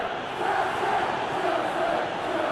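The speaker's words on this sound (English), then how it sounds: "the crowd clearly like what they just saw" Stadium crowd in a Chelsea vs Arsenal Premier League football simulation video game, a broad roaring cheer that holds steady and loud for a couple of seconds.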